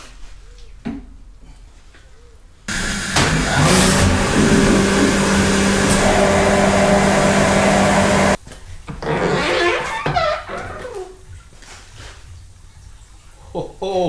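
A hydroblaster sprays water over the main body of an old tap wrench, a loud continuous hissing blast running for several seconds. Quieter handling clatter comes before and after, and a person talks nearby.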